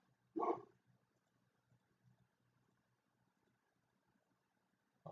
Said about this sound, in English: why does my dog keep barking?